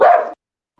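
A female dog gives one loud, close bark that cuts off sharply, followed by near silence.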